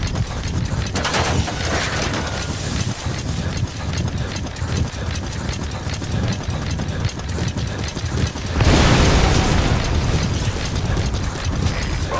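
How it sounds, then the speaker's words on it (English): Explosion in the stealth-action video game Metal Gear Solid V, a loud broadband burst near 8.7 seconds that lifts the level above a dense, steady bed of mechanical game noise and rumble. "Did you see that explosion?"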